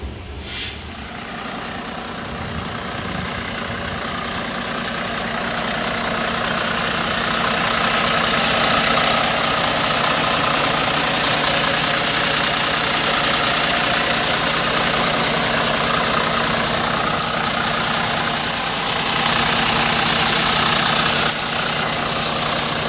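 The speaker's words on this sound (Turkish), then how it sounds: "Şimdi de sizleri 2020 model Cobra'nın motor çalışma sesiyle baş başa bırakayım." The engine of a 2020 Güleryüz Cobra GD-272 LF Euro 6 city bus idles with a steady low rumble and hum, loud and close, opening with a sharp air-brake hiss and running on alone without talk.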